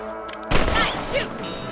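A sharp rifle shot in a Western-style video game, one loud blast near the start with a brief crack ringing out after, followed by a fainter second report.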